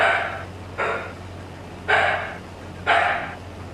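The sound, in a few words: dog barking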